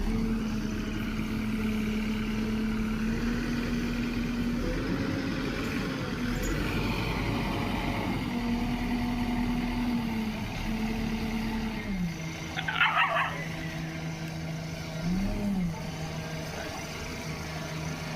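A JCB excavator engine drones steadily as the machine pushes a fallen coconut tree out of a farm grove, its pitch shifting slightly under load, with a brief rattle of strain near the end and no talk.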